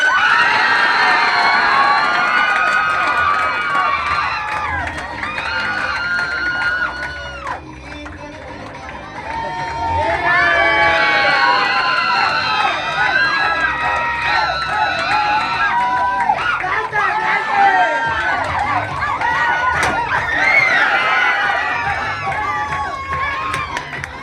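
A crowd at a film posting celebration cheers and shouts loudly for a sustained stretch, excited voices and whoops overlapping with speech throughout.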